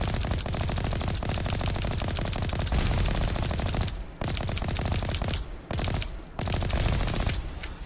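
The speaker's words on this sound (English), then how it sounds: "we're being shot at. There's a turret across from us." An enemy turret fires on the player in Mass Effect, producing sustained rapid bursts of automatic gunfire, loud and dense, broken by a few brief pauses before resuming.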